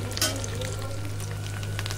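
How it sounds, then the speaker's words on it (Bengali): Dried fish frying in hot oil gives a continuous close sizzle with light crackling pops, over a low steady hum. "মাছটা লাল করে ভেজে নিয়েছি"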